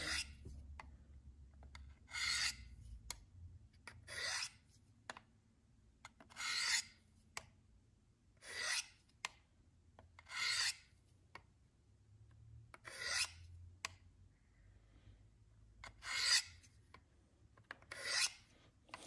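Leatherman blade drawn across the coarse plate of a Work Sharp guided field sharpener, a dry rasping scrape repeated in about ten even strokes, close and clear with quiet pauses between passes.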